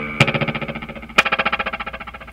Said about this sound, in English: Swell mode is essentially all 4 of these heads activated.